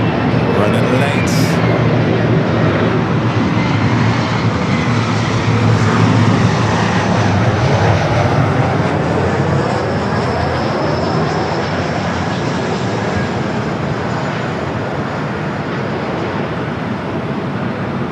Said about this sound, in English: Flight 4910, coming in from El Paso, Texas.